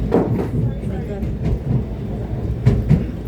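An MRT metro train runs along the track with a steady rumble and rhythmic clatter of wheels, close and fairly loud, with faint voices mixed in.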